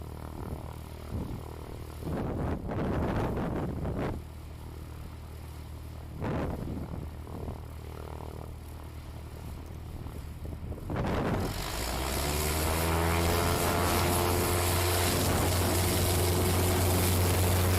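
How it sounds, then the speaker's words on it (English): A Cessna 172 STOL competition aircraft taxiing up to the line at a rookie-class contest, its propeller engine idling and rumbling nearby, then swelling into a steady, louder roar. "We're getting ready for rookie class here as Shad Forrester taxis up to the line."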